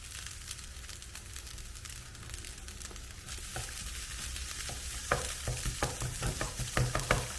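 Egg fried rice sizzles steadily in a pan while being stirred, with repeated scraping and tossing clatters growing more frequent toward the end, close and moderately quiet.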